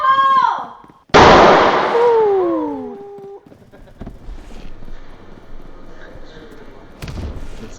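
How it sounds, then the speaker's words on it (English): A loud, sudden explosion booms right after a shouted warning, a sharp blast followed by a long rumbling decay and lingering debris and hiss, with voices and whooping before and around it. "It's mid-explosion."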